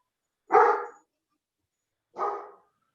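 A dog barks twice, loud and close, with a pause of over a second between the two barks and silence around them.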